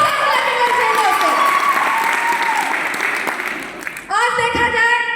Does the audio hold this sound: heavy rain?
no